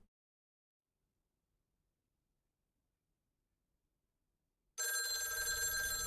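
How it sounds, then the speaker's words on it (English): A telephone rings in the video game Lake, set on Christmas Day 1985, the bright bell starting abruptly and loudly after about five seconds of near silence and continuing to the end. "I love how the phone rings every evening."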